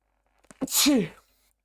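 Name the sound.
sneeze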